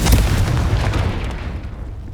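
Confringo spell explosion in Hogwarts Legacy, a single loud booming burst that hits at once and rumbles away over about two seconds.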